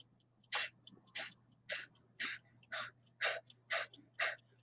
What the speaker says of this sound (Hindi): नाक से भरी और जोर से छोड़ी